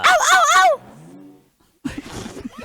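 A puppy lets out a few high, wavering yelps at the start, then a softer whine, followed by a burst of nearby scuffling with voices.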